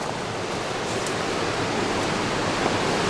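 A high river swollen with snowmelt rushes past in a steady, dense roar of water, loud and close, with no pauses and no voices.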